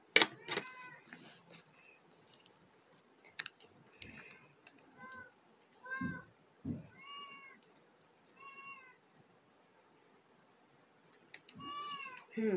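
A cat meows several times in short separate calls over a quiet background, with scattered ticking clicks and some talk between the calls.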